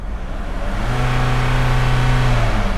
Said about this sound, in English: just let's rev the car.